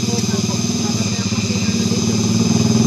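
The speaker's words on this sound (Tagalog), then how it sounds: "Napansin ko, ang dami nila dito may mga motor" Motorcycles and scooters rumble along a village street, one engine putting out a steady, close, pulsing drone with clattering mechanical noise.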